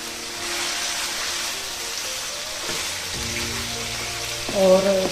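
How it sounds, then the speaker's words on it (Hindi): Chicken fries with garlic paste in a hot pan, giving a steady close sizzle with a faint tonal hum underneath and a louder burst of crackling near the end. "चिकन और लहसुन का पेस्ट डालते हैं साथ।"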